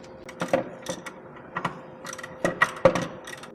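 A hand ratchet works on a timing cover bolt of a 2008 Acura MDX J37 engine, giving short bursts of rapid clicking separated by pauses, close and crisp.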